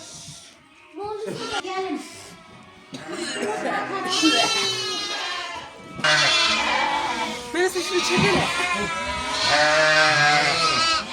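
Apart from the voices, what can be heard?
lamb bleating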